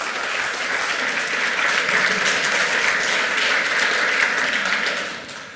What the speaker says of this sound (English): So please give a warm applause to Karsten and Robert.